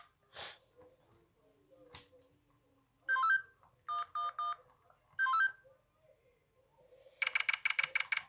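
Cell phone keypad tones being dialed in a prison escape video game, short bursts of dialing beeps in clusters followed by a rapid run of tones at the end, with faint background sounds between.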